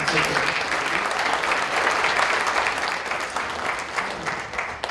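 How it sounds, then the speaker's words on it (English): Steady, dense applause fills a hall as an audience claps for a woman at a distinguished speaker series talk, sustained and even throughout without any speech. "let's give her a round of applause"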